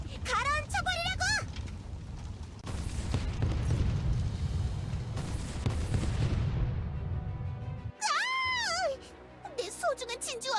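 Cannon fire shelling a sandy island in the game Trickcal RE:VIVE, heavy booming blasts rolling through the middle of the clip, with squeaky cartoonish character voices chattering at the start and end.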